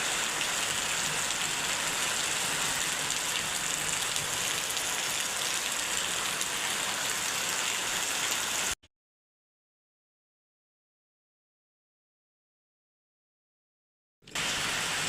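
Steady rain hisses on surfaces, then drops out to complete silence for several seconds before the downpour resumes.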